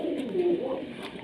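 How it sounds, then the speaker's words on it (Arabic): Pigeons in a pigeon loft cooing softly nearby, a low warbling call rising and falling over a brief moment with faint rustling, no speech. "بنوري لكم الحمام على الطبيعة"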